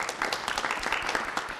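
A seated audience at a panel discussion breaks into steady applause, a dense patter of many hands clapping together at moderate loudness, without speech.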